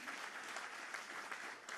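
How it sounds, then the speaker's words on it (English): An audience at the Fortune India 40 Under 40 awards ceremony applauds N.R. Narayana Murthy with dense, sustained clapping from many hands. It sounds even and distant, fairly faint, and runs without a break. "can we have a thunderous round of applause for Shri N.R."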